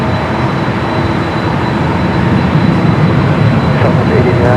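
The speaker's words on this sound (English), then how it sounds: "this flight arriving on 25 right" A jet arrives on runway 25 right at Los Angeles International Airport, a loud broadband engine roar that holds steady and builds slightly.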